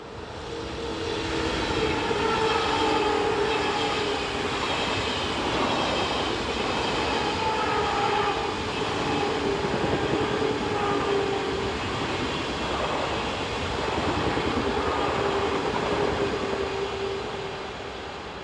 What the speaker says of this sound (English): This is the 1011 service from Lugano to Zurich.